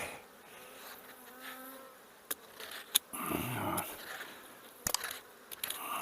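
Honeybees buzz around an open hive during a colony split onto 145 frames, with a close, fluctuating drone broken by a few sharp clicks and knocks as frames are handled.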